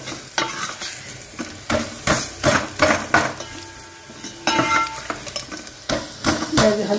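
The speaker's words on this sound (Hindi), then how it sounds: "नाल नाल हल्दी फ्राई कर लो।" Turmeric frying with crushed garlic and onion in a pan, stirred and mashed with a utensil: a steady sizzle broken by repeated loud scraping and clinking strokes against the metal, close up, with no voices.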